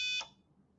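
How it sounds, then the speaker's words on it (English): A buzzer on an Arduino relay circuit set off by a motion sensor, one short high electronic tone that cuts off after a fraction of a second. "you can hear my buzzer turns on"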